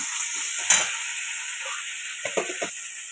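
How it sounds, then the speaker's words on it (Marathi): Onion and coconut paste is sautéed in a pan with softened onion and tomato, giving a constant close sizzling hiss. A few scraping stir strokes sound over it. "आता मी कांदा खोबऱ्याचं वाटण टाकते जरा असं आणि त्यातच परतून घेते चांगलं"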